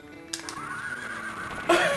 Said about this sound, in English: That's a good horse sound.